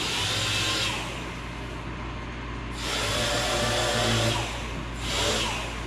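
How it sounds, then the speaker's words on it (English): A 3-inch DA sander fitted with 1000-grit sandpaper runs during wet sanding in a workshop, its close whir swelling and easing in several passes over a steady low background hum from heaters. "3-inch DA here. 1000 grit sandpaper."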